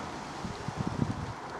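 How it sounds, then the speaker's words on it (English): Gusty wind buffets an outdoor bonfire, a soft rushing roar with faint rustling and crackle-like flutters, fairly quiet and continuous throughout. "Still quite windy though"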